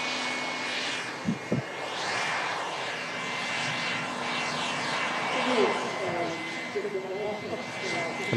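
A jet airliner arrives from Edinburgh to land at the airport, heard as a distant roar under outdoor ambience. Occasional voices talk over it, with a couple of brief knocks near the start.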